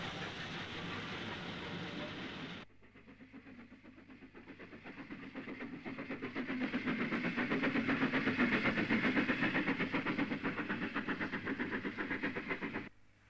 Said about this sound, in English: the first of 5 football specials thundered through Aintree.